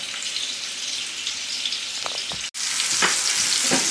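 Pork neck patties fry in a spoonful of fat in a pan, a steady loud sizzle with crackling pops, briefly cut off and then resuming even stronger.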